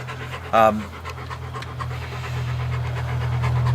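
A dog pants rapidly and steadily in hot weather, close by, with a short sharp whine or yelp near the start and a low hum beneath.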